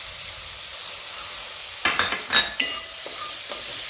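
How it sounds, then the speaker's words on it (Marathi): Tomatoes drop into a hot pan with onions, bursting into a sharp sizzle and a few scraping stirs after a quiet, low simmer, then settling back to a soft hiss. "त्यानंतर टाकूया आपण टोमॅटो."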